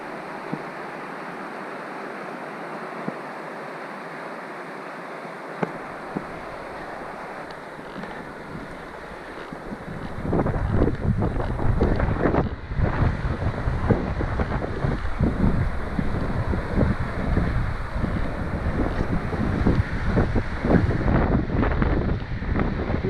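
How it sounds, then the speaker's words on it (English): Steady mountain wind near Pine Creek Lake in Montana's Absaroka Beartooth Mountains rushes and buffets the microphone, rising to loud gusty roaring and rumbling after a calmer opening, with no voices. "The wind is definitely picked up here."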